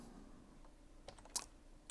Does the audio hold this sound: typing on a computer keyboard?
yes